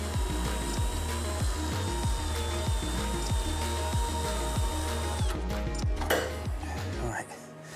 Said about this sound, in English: The difficult bit is using the spot welding drill tool to remove the corner strengthening sections.